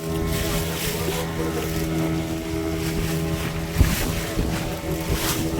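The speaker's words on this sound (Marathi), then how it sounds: "समुद्राचं पाणी उडणारं" Sea water splashes and rushes past a moving boat while its engine drones in a steady hum, with wind buffeting the microphone and one sharper slap of spray near the end.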